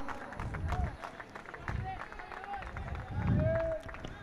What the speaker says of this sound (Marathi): टाळ्या वाजतायत